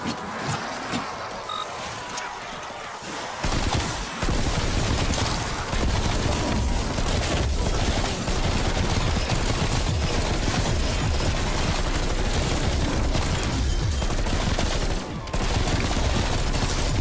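Dense, rapid gunfire in a Call of Duty Cold War zombies match, continuous bursts of shooting crackling loudly for many seconds after a quieter opening.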